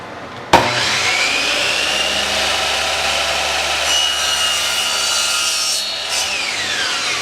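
Wooden trim pieces for a dual-bin trash and recycling cabinet being cut with a power saw, a sharp onset followed by about six seconds of steady, loud, close whining cut before it winds down.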